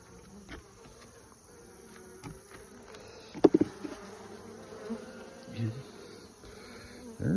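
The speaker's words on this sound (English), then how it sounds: "there's quite a few bees in here" Honey bees buzz inside a hive in a low, continuous hum with scattered louder buzzes and a few knocks and rustles nearby, no talking.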